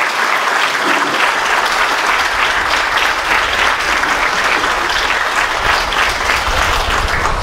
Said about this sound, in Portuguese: uma salva de palmas, por favor, para o município